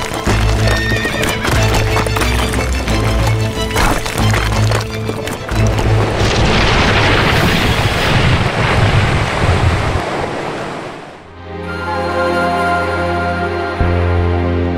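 Horses and camels are led on foot down a steep, slippery mountain trail, with hooves clopping and a horse whinnying over wind and a rushing backdrop, before an orchestral score takes over near the end.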